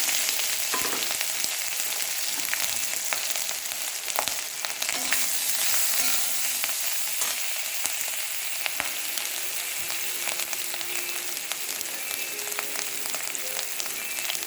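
Ginger paste and green chili frying in oil in a pan, with potato tempering, for a cabbage dish: a steady, close, loud sizzle with crackling spatter that continues throughout, plus occasional faint clinks of stirring.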